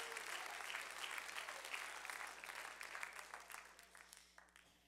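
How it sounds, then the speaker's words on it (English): A church congregation applauds steadily for several seconds with scattered shouts, a dense, fairly loud wash of clapping that thins slightly toward the end. "Then you can shout and clap"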